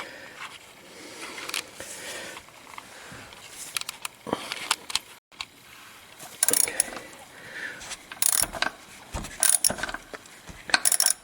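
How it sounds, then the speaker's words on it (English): Socket wrench ratchet clicking while loosening the oil drain plug on a 2006 Lexus IS350, with bursts of close, sharp ratcheting in irregular runs, heaviest in the second half, separated by quieter mechanical handling. "get our socket wrench, just the wrench itself"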